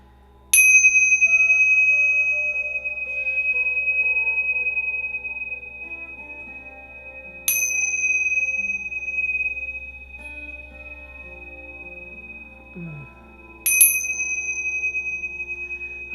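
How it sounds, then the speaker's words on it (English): Small chimes or bells rung during a sound healing session, struck three times with long ringing decays between strikes in a quiet room over a low steady hum. "Let's do the chimes. Or the bells."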